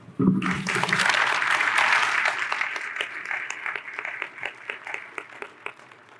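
A conference audience at a Kidney Week 2024 plenary session applauds to welcome a speaker: dense, steady clapping that swells quickly, holds, then thins into scattered individual claps as it fades.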